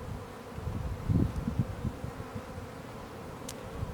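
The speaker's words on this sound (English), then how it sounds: "there's a healthy colony of bees going on" A honeybee colony in an opened hive gives off a steady low buzz, close by, with slightly louder swells near the middle and no voices.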